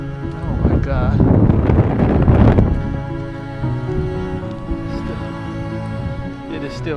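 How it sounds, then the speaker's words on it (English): Strong wind from Storm Kristin buffets a home in Portugal, a loud, steady rush that roars hardest in the first seconds and then eases to a lower sustained gusting, with a voice speaking over it. "It is still very windy out here."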